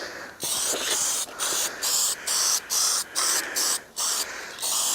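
Aerosol spray paint hissing onto a rear drum brake in short repeated bursts, about eight passes of roughly half a second each, close and steady with brief gaps between, no talking.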